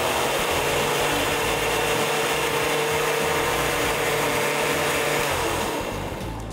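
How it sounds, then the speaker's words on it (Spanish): A kitchen blender runs on low speed, mixing ice cream into a thick milkshake with a steady, loud whir that carries on without a break and tapers off slightly at the end. "Entonces ahora sí vamos a licuar."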